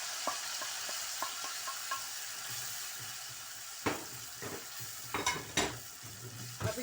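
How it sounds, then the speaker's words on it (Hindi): Onions frying in a pan give a steady close sizzle, broken by a few sharp stirring clatters of a spoon toward the end, with no voices. "2 मिनट भूनती हूँ"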